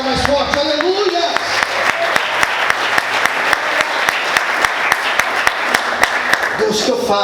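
A church congregation applauds loudly during a morning service, with full, sustained clapping and a steady beat of rhythmic claps, as voices continue over the crowd.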